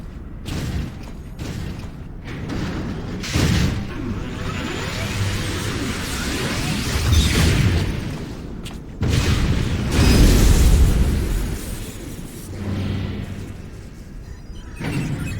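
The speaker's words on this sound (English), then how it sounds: "Diverting all power to cannon." Cannon blasts and explosions from Final Fantasy XIV boom repeatedly over a mechanical, creaking din, with several loud bursts spread across the clip and a rumbling swell near the end.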